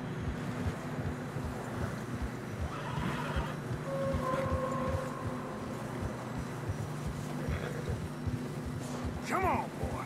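A horse neighs in Red Dead Redemption 2 on a narrow snowy mountain trail, whinnies rising briefly over steady wind and hoof sounds, with people talking throughout.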